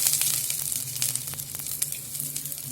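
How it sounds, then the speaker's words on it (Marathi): Onion sizzling and frying in hot oil in a clay pot, a steady crackling hiss with small pops, close and fairly quiet, with no talking. "तर मी कांदा टाकत आहे।"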